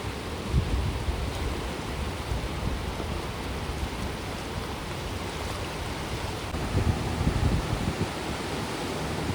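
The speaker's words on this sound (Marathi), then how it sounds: "आज जरा लाटा पण झाल्यात" Choppy sea waves wash against a shore as a boat comes in, a continuous loud rushing surf that swells briefly around the middle and end, with no voices.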